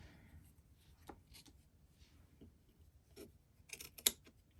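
Scissors cut paper for a chalkboard stamp card craft, giving a few faint, quick snips near the end over a quiet room.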